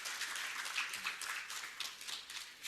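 Conference attendees applaud the organising team from a regional office in Chennai with faint, continuous, distant-sounding clapping that holds steady throughout, with no talk over it.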